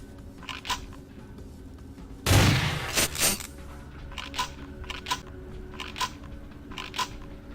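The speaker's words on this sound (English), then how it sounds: "I hear the shotgun blast" A shotgun blast in a game assault, one sharp loud burst followed by a brief rattling tail, then scattered quieter clicks and taps spaced out afterward.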